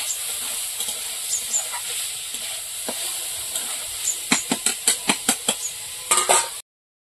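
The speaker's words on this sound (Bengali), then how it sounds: "এইভাবে নাড়াচাড়া দিয়ে দিয়ে কপিটা ভাজা করে নেবো।" Broccoli stir-fried in oil in a home kitchen pan gives a steady close sizzling hiss, with a run of sharp scraping strokes from stirring in the last few seconds.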